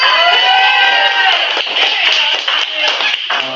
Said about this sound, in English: Thank you for clapping.